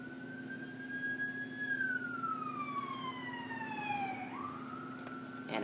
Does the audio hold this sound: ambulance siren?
yes